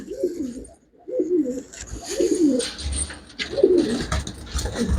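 Pigeons cooing repeatedly in a loft of pure-bred birds sold cheaply, soft throaty bursts roughly every second, close and clear with no talk.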